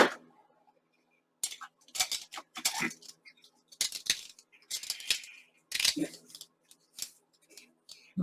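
Paper being snipped with scissors for a junk journal card, a series of short crisp cuts and rustles in bursts between quiet gaps, close up, with brief speech mixed in.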